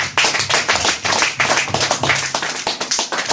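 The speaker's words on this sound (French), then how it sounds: "Est-ce qu'on peut acclamer pour le Seigneur?" Church congregation clapping and applauding for the Lord, a dense, loud, steady burst of many hands close by.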